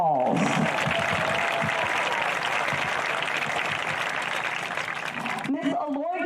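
A crowd applauds the 2019 high school homecoming court at a Wilcox County versus Clinch County football game, with steady clapping throughout that fades at the end as a voice comes in.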